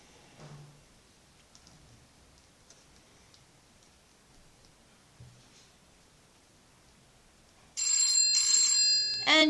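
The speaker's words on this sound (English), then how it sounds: "And you have the phone ringing on the watch." Q50 GPS watch ringing with an incoming phone call: after a near-silent stretch, a loud, steady electronic ringtone with bright tones starts abruptly and runs to the end.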